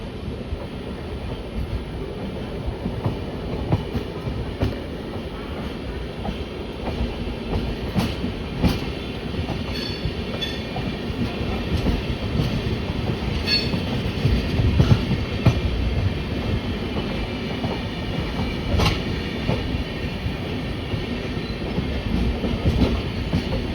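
The 12338 Bolpur–Howrah Shantiniketan Superfast Express runs at 130 km/h, a loud continuous rumble with rapid clickety-clack of wheels over rail joints and occasional sharp squeals, steady throughout with no talk.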